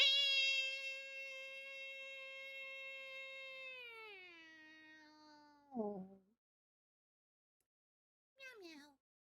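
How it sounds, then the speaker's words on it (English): A long, drawn-out meow slides downward in pitch, followed by a short chirpy cat sound and a brief second meow after a pause. "Okay, we have to do a meow."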